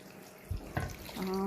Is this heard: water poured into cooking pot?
yes